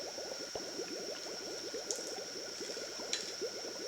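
Hot liquid being poured for growing crystals makes a steady bubbling, fizzing patter that runs continuously, faint and close, with occasional small clinks.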